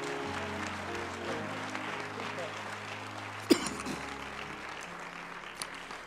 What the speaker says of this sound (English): Give God a hand clap for his man